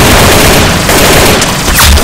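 A gunshot rings out in a Roblox game as a player lands a headshot. It comes as a loud, dense burst of gunfire that fills the whole two seconds with little letup.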